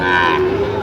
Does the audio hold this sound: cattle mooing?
yes